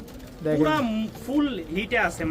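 Lahori pigeons cooing close by, several rolling, throaty coos in quick succession, fairly loud and clear against quiet background.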